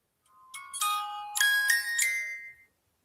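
A ghost hunting phone app's Music Box trigger plays a short, bright chiming melody of a few rising tinkling notes, clear and alone, lasting about two seconds before stopping.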